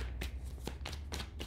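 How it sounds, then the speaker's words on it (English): A deck of tarot cards is shuffled by hand in several quick, close riffling bursts, each a crisp papery flutter, with no talking. "Two more shuffles."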